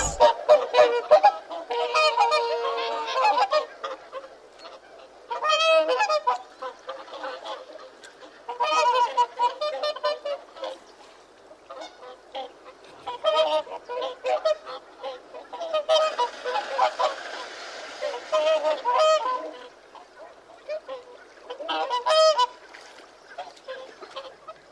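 Geese honk loudly and close in repeated bursts of harsh, nasal calls, several birds overlapping, with brief pauses between flurries.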